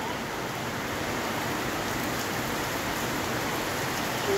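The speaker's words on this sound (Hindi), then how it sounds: "इतना सुंदर मौसम है बारिश गिर रहा" Steady rain falls continuously as a dense, even hiss of drops on surfaces, close and moderately loud, with no voices.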